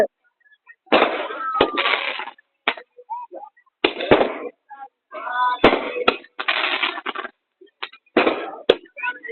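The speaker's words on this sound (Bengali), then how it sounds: "অলরেডি বাজি শুরু হয়ে গেছে।" Fireworks at a Jhulan Yatra festival crackle and pop in repeated sharp bursts and rapid sputtering volleys, loud and close, with short gaps between salvos.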